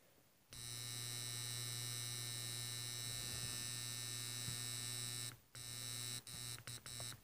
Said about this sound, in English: Relay's making some weird noises.